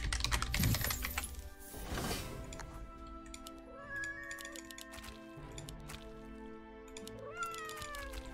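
A cartoonish cat meows in the tower-defense video game Legion TD 2. A loud meow comes first and is followed by quieter mewing, with keyboard clicks and small game effects mixed in.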